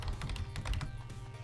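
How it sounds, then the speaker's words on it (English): Typing on a computer keyboard, a quick run of soft, close taps and clicks over about a second and a half, with no talking. "This is me typing."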